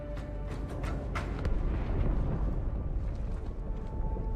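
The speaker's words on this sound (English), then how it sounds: "That explosion came from inside the Athens." A deep explosion rumbles from inside a ship in a Halo audiobook, a broad, sustained low roar with scattered crackling bursts, moderately distant and without speech.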